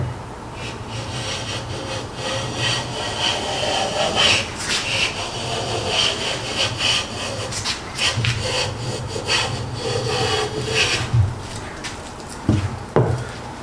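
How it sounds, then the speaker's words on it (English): A Steers Patent 304 hand plane is pushed along a wooden board, making repeated rasping, rubbing strokes as it takes a shaving, close and fairly loud with brief pauses between passes. "So let's take another shaving and see what happens."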